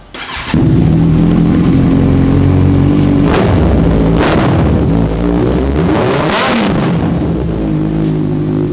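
An inline four-cylinder superbike engine revs hard and loud, climbing in sharp bursts over a steady rumbling idle, with three distinct throttle blips.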